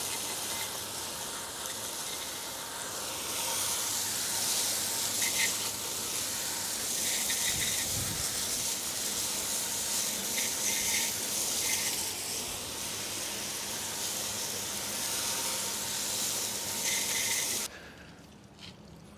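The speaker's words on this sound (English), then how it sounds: "So we've rinsed all the iron decon off the wheels" Steady hiss of water spray rinsing iron decontamination off car wheels, a continuous close gushing wash that cuts off abruptly near the end.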